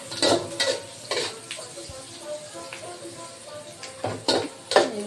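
Cinnamon, cloves and bay leaf sautéing in a pan: light sizzle beneath sharp clinks and scrapes of a spoon against metal, several quick stirring knocks up close.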